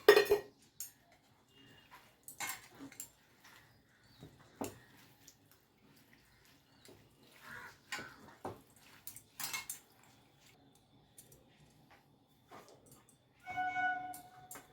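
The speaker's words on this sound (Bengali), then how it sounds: "এবার ওই শাকটাকে আমি ভালো করে জল দিয়ে ধুয়ে নিচ্ছি।" Fenugreek leaves are washed by hand in water in a bowl, giving scattered splashes, drips and rustles with occasional clinks of the vessel, quiet and intermittent, with no one speaking.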